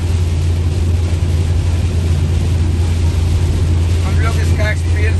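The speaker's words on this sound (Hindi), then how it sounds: "झमाझम बारिश हो रही है।" Heavy rain drums as a car drives along the Kanpur–Lucknow expressway. A dense, loud, steady wash of noise over a low road and engine rumble runs throughout, with a faint voice near the end.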